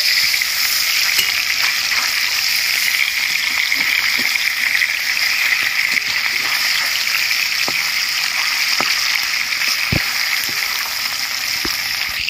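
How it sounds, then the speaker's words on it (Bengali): Rohu fish pieces fry in hot oil while being turned over, a loud continuous sizzle broken by a few sharp taps and splatters. "পিঠ ভাজা হয়ে গেছে, আর এক পিঠ আমি উল্টে দিচ্ছি"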